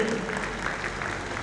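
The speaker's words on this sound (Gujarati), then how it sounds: "જોરદાર તાળીઓથી તુલસી કાકાને આપણે વધાવીએ" Audience applause for an elder at a gathering with employees' parents, a brief burst of steady clapping heard from a moderate distance.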